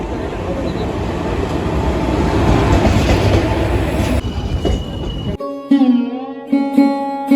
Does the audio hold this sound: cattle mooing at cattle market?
no